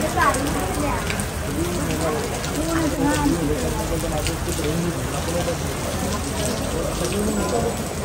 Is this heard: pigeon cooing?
no